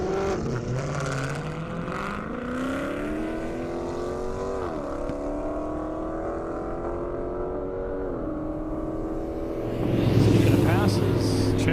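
A half-mile airstrip drag race between a Kawasaki ZX-14R motorcycle and a Challenger, a loud engine wailing steadily higher through several gear shifts, then a deeper, louder roar surging in near the end, with an announcer talking over it.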